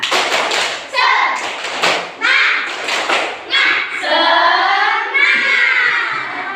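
A class of Indonesian third-graders chants "tepuk semangat" loudly together while doing a rhythmic spirit clap of quick claps, close and energetic.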